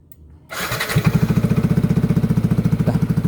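Yamaha NMAX 155 scooter fitted with a Satria FU exhaust cranks briefly, fires up and settles into a steady, throbbing idle with a rapid, even pulse close by.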